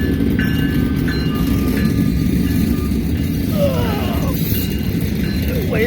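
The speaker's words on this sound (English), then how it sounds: "Not even gonna get up for this, because, it's just Amtrak." An Amtrak train passes close by in the Chicago area with a loud, continuous rumble and wheel noise, a few high squeals rising near the end.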